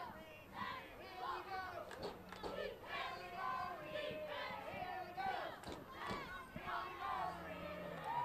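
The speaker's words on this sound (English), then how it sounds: "we got a cheering section" Cheering section of fans at a high school football game, a crowd of shouting and yelling voices in bursts over continuous chatter, heard from a distance.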